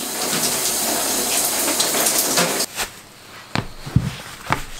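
Cold shower water gushing in a steady hiss for a couple of seconds, then cutting off, followed by scattered drips and splashes nearby.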